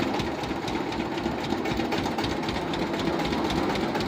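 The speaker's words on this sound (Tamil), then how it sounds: "எப்படி இந்த வண்டியை ஓட்டிகிட்டு போகிறான் வாங்க பார்க்கலாம்." A portable sugarcane juice cart vehicle being driven, its small engine giving a steady, loud, buzzing drone with a rapid mechanical rattle throughout.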